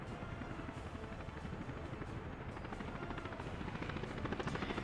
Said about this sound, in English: We have a helicopter at fire station. We will have a helicopter at hospital. And we are building a lot of stuff using helicopters.